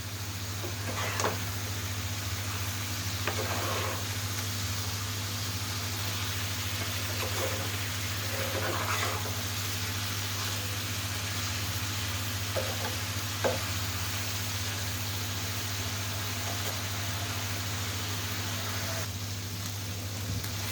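Chicken pieces sautéing and sizzling in a pan while being stirred, a continuous crackling fry over a steady low hum, with scattered scrape and stir clicks.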